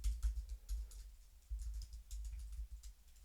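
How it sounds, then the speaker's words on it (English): Typing on a computer keyboard, a steady run of quick, close key taps and clicks with brief pauses, fairly quiet and with no talking over it. "I'm not going to bore you by typing out too much here."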